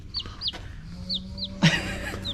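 Chickens cluck in short, repeated calls, with a louder squawk near the end; a few birds at close range, no talking.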